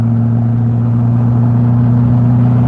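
A cold car engine with a manual transmission holds a steady, moderately loud drone near 2,000 RPM while shifting early, heard from inside the cabin with no speech.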